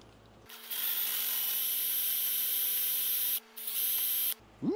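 A power tool whirs steadily at high speed while cleaning out the brake caliper cylinders of a 1971 Cadillac, a close, continuous whine with two brief stops.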